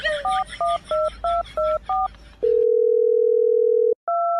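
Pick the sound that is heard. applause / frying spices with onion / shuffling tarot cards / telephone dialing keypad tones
telephone dialing keypad tones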